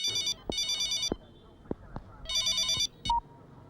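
A telephone rings in a police station scene of a Hindi-dubbed fantasy film, sounding as bright electronic bursts with short pauses between, alongside a few dull thuds and brief voice sounds.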